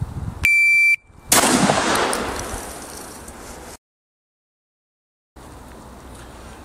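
A pump-action hunting shotgun fires once outdoors with a loud sharp blast that decays over a few seconds, preceded by a brief electronic beep.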